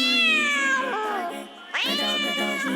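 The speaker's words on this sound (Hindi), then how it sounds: "गधे के मालिक ने पाली बिल्ली एक बालों वाली" A long-haired pet cat in a children's animated moral story meows loudly twice, with a long drawn-out cry, a brief dip, then a second rising meow. No talking.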